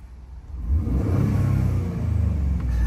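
A 2016 Ford F-150 with a turbocharged EcoBoost engine pulls ahead under throttle, producing a steady, full low rumble heard from inside the cab with no voices.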